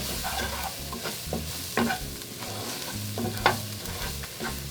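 Seasonings being stirred around a pan for chicken enchiladas, a steady scraping and stirring with a few sharper clinks of the utensil over a light sizzle, close and moderately loud throughout.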